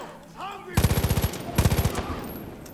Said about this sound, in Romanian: Mai avem 60 de gloanțe, așa că hai să le folosim cum trebuie